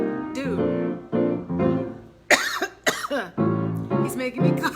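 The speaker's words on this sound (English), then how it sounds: "he's making me cough" A person coughs repeatedly in loud, close, rough bursts, mixed with strained voiced sounds between the coughs.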